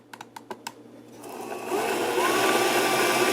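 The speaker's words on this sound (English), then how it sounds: "So let's go ahead and do 3 clicks and start the sharpening." Work Sharp E5 electric knife sharpener: a few quick clicks, then the motor spins up into a steady, close whirring grind as a knife is drawn through.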